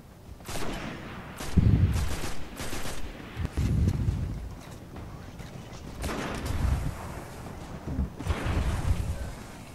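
Bursts of gunfire from the video game Destiny, several loud volleys of rapid shots separated by short pauses, with heavy low-end booms, close and without talk.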